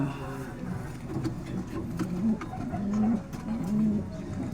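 Racing pigeons coo at a derby loft in a series of soft, low, throaty calls over a few seconds, with faint background noise and a voice talking.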